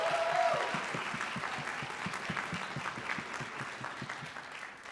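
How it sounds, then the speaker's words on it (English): Steady applause from a TEDx conference audience, many hands clapping at once, loud at first and then tapering off slightly. "Let's get one more round of applause."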